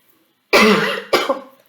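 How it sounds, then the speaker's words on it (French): Two harsh coughs, one longer then a shorter one, loud and close with silence before. "Et là, tout d'un coup, ça me donne envie de tousser."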